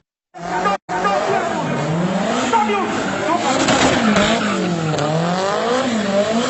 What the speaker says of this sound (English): shows a car maneuvering around the woman at high speed